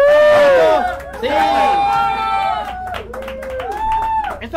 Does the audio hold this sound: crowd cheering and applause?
yes